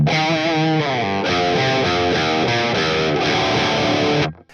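Electric guitar played through a clean-to-crunchy first amp channel with a solid JCM 800-style tone, chugging bass-line riffs and chords steady and loud for about four seconds before cutting off, with no voices.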